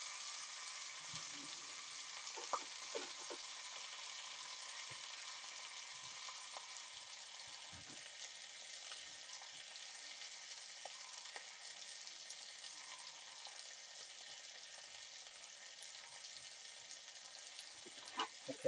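Steak fries in a pan with a steady, faint sizzle and crackle that holds throughout, broken by occasional soft pops and small scraping sounds.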